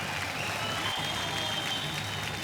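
An award show audience applauds in a steady, dense wash of clapping that fills the whole stretch at moderate level, with no voice rising above it.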